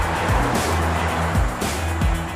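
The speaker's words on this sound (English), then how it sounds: "I'm driving the X5 X-Drive 30D. The 3-litre inline 6 makes 260 horses and delivers a healthy 620 Nm." A 2019 BMW X5 xDrive30d with a 3-litre inline-six, heard while driving: a steady, close engine drone mixed with road and tyre noise that holds an even level throughout.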